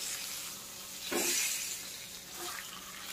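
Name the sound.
fish fry sizzling in a pan on medium gas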